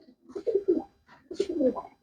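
Pigeons coo in a loft in two soft, throaty bursts of rolling calls, close by and otherwise quiet.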